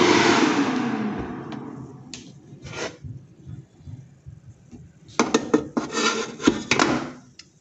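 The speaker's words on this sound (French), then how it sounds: "je mets mes frites sans rien" Frozen fries tipped into an air fryer basket, heard as a loud scraping slide at first, then scattered rustling and rattling clusters of the pieces settling against the metal basket, close up with no talk.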